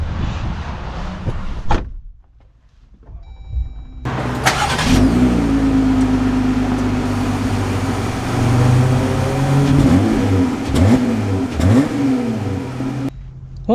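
A 2024 Jeep Gladiator Rubicon X on mud-terrain tires starts up with a loud engine rumble after a brief quiet moment, then drives with the engine revving and its pitch rising and falling, close and steady.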